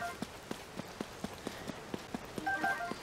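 Rain patters in Zelda: Tears of the Kingdom, a soft, steady hiss with faint, regular tapping drops, quiet and unbroken by talk.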